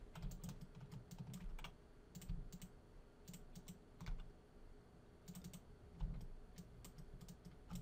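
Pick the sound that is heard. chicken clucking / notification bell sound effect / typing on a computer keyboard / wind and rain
typing on a computer keyboard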